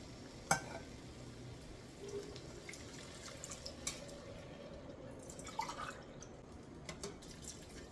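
Water poured into aged basmati rice in a cooker for peanut pulao, a faint, steady liquid trickle with a few light clinks over quiet kitchen background.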